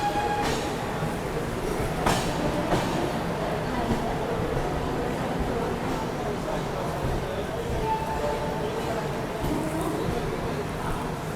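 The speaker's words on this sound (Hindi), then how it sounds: "जस्ट बगल से अभी देखो कच्छ एक्सप्रेस कच्छ सुपरफास्ट निकली है ना" Kutch Superfast Express (Bhuj–Bandra) rushing past alongside a moving train near Borivali, a steady loud rumble with wheel clatter and squeals throughout, voices talking over it.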